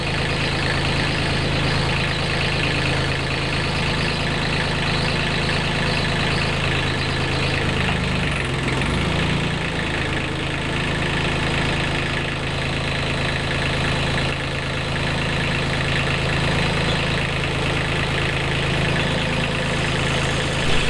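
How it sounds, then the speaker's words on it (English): A tractor engine idling steadily at close range, a continuous low rumble with a faint knocking beat that holds unchanged throughout, with no talk over it. "On the tractor, and I'm about ready to go pull the lever and see if it goes up and down."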